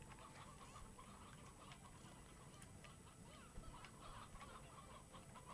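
Chickens cluck together in Slime Rancher 2, a faint, busy chorus of overlapping clucks and squawks that continues without pause.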